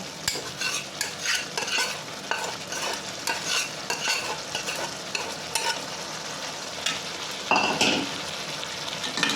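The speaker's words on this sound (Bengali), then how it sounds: "এই ফোড়নটা আমি এই চিংড়ি মাছের মধ্যে দিয়ে দিলাম।" Tempering stirred into prawns frying in a pan, with continuous sizzling and repeated scraping strokes of a spoon against the pan, close and clear with no talk.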